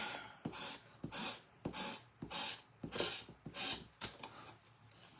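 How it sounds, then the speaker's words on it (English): A wooden board is sanded by hand with sandpaper in steady back-and-forth strokes, about eight rhythmic rasping passes heard up close with no talking. "The lower your grit, hey Connie, for this process, the better."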